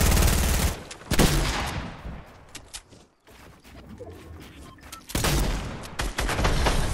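Rapid bursts of gunfire in a first-person shooter video game, loud volleys at the start and end separated by a quieter stretch with a few scattered shots.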